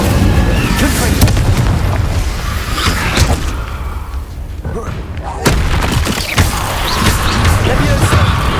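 Confringo blasting spells explode in Hogwarts Legacy, loud booming blasts with sharp impacts and crackling debris, several in succession amid game combat noise and talk.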